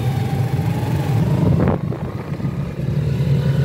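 A car driving through heavy road traffic in the evening, a constant engine and road drone with a brief louder swish of a passing vehicle partway through, no voices.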